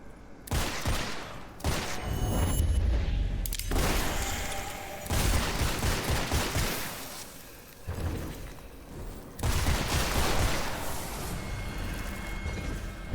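Gunfire in the video game Witchfire comes as dense, loud bursts of shots and explosive blasts in several clusters separated by brief lulls.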